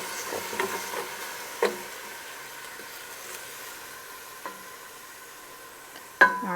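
Onions frying in a pan for beef rogan josh, a steady soft sizzle with a few sharp clinks of a stirring utensil against the pan, no talking.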